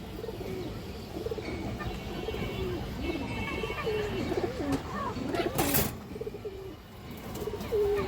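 A silver male pigeon coos in repeated soft, throaty phrases near a close voice that speaks over steady background noise.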